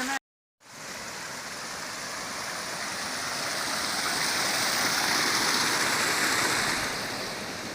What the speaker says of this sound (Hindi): ये भी एक छोटा सा वाटरफॉल बन रहा है। 1 फीट का वाटरफॉल है।